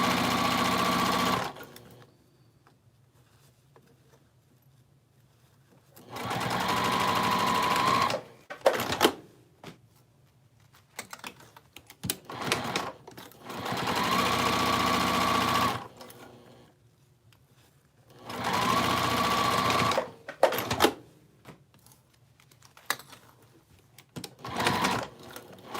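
A sewing machine stitches zipper pouches in several loud, steady bursts of rapid whirring, separated by quiet pauses with small handling clicks and rustles, close up with no talk.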